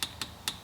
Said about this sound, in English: you can hear it clicking my climate controls